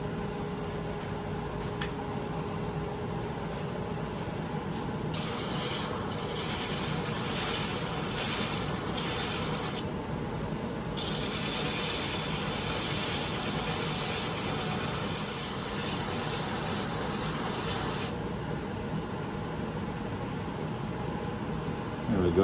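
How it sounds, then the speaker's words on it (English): An 80 grit sanding pad held in a Jacob's chuck in the lathe headstock sands a walnut chuck key, making a steady broadband hiss in two long passes over the constant hum of the running lathe. "I got an 80 grit right here on the sanding pad, hooked into a Jacob's chuck in the headstock"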